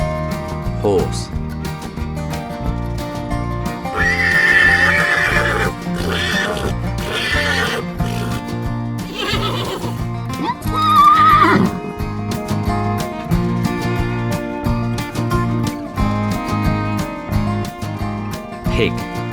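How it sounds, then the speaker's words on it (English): A horse neighs over a bouncy nursery rhyme track of farm animal names and sounds, the whinny rising above the steady music while a voice sings along. "horse,"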